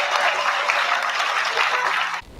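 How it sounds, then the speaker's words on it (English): A school audience claps for its student leaders at a fall assembly, a dense steady wash of applause that cuts off abruptly near the end. "can we give our student leaders a big round of applause?"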